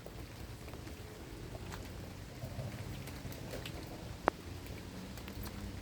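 Steady rain falls on a home vegetable garden with green tomatoes, making a soft, even patter close by with faint drips and one sharp tap near the end.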